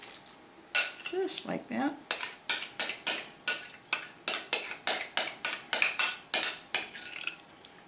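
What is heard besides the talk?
crab dip being spooned into a casserole dish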